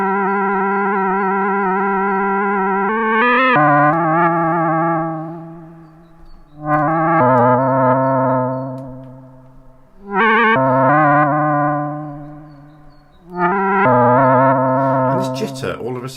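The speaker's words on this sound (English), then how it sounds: "let's go back to that big spacey reverb." Fizzy modular synth pad drenched in big spacey reverb, playing four sustained chords that swell and ring out in long tails between changes.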